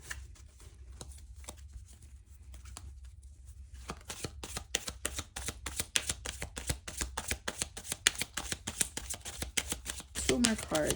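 Tarot cards shuffled in a quick run of crisp riffling snaps that builds over several seconds, fairly close and loud, with a soft murmur of talk before the shuffling starts.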